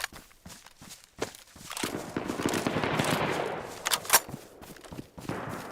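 DMR rifle gunfire in the DayZ video game, several sharp shots spread unevenly over a rising wash of in-game movement noise, moderately loud with no talking.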